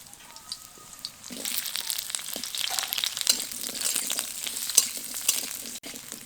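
Potatoes and sweet potatoes fry in a small amount of hot oil for a light vegetable curry, giving a steady crackling sizzle with brief scraping and stirring bursts throughout.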